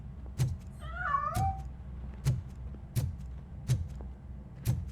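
Cat in the video game RoboCop Rogue City gives a single drawn-out wavering meow, amid a steady series of regular thuds like footsteps, set against a quiet background with no talk.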